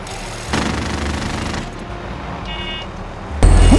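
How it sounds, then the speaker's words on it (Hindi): Sustained gunfire in Call of Duty Warzone: a steady, dense automatic rattle running for several seconds, with a louder burst near the end and a faint high tone partway through. "सस्टेनिंग फायर, यहाँ से बंदा मार रहा है"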